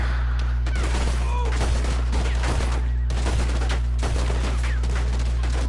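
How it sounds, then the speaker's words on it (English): Gunfire rings out in a Western video game featuring John Marston, with several sharp shots and a rapid burst among cops, over a constant loud background hum. "I shot off my hat."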